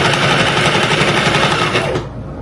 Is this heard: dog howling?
no